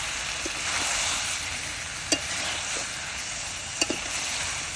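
Spicy chicken curry with potatoes cooking in a pot gives a steady, close sizzle and bubbling hiss, broken by a few sharp clinks of a spoon against the pot.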